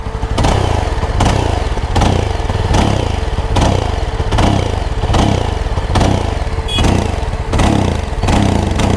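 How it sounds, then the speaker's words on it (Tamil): A Jawa Yezdi Scrambler motorcycle revs through its exhaust close up, loud and rhythmic, with about eight evenly spaced throttle blips rising over a steady idle. "எக்ஸாஸ்ட் கேட்போம்."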